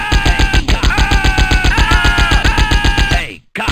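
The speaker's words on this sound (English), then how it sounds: "I've got a machine gun!" Rapid, steady machine gun fire from Die Hard Trilogy, loud and close, with a tonal whine over the bursts, cutting off briefly near the end before resuming.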